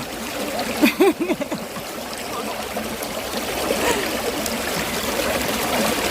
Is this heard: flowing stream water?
yes